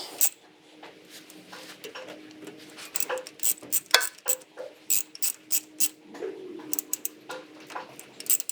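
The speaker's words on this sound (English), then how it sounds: "Yep, good ratchet." A ratchet tightens bolts on a Jeep YJ axle housing, sounding as a run of sharp close clicking strokes in quick rhythmic bursts, mostly in the second half, with no talking.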